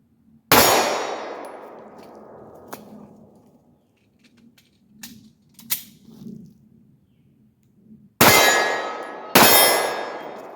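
Pistol shots fired one-handed with the right hand during a concealed-carry drill, one loud crack early, then two more near the end, each with a ringing decay, with soft handling noises in between.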